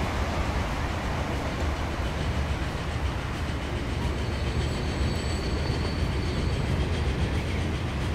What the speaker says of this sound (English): There's one of the West Country main lines trains.